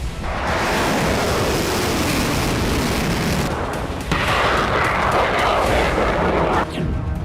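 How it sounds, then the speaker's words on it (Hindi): Loud, dense blasts and rumbling booms of missile strikes on Kyiv roll continuously in two long bursts, crackling and heavy, with a brief gap between them. "कीव के अलग अलग इलाकों से धमाके की आवाज सुनी गई है।"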